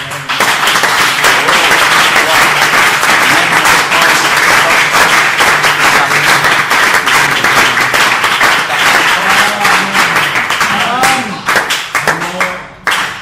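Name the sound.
audience applause and acclamation in church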